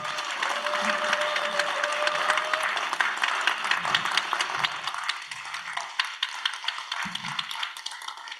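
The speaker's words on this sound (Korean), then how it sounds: "큰 박수로 맞이해 주시기 바랍니다" Warm audience applause welcoming a Zen meditation monk to a Buddhist Dharma gathering, a dense even roar of clapping across the hall that carries on throughout, with a faint tone briefly underneath.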